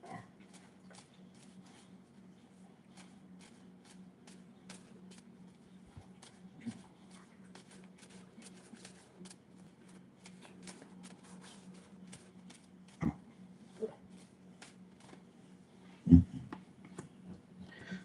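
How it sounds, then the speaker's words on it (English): A dog grunts and snorts like a pig, with a few brief, scattered snuffles and one louder snort near the end over a steady low room hum. "She grunts, snorts, growls like a pig."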